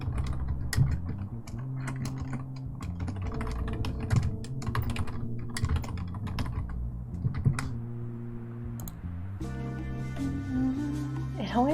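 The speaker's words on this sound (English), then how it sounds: "It always like messes up when I'm typing." Rapid clicking of a computer keyboard during an evening art livestream setup, keys tapped in quick irregular bursts close to the microphone, with a voice talking at times underneath.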